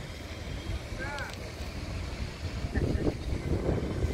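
A steady broadband rush of breeze and splashing fountain water fills a wide open plaza at India Gate, with a few faint chirps.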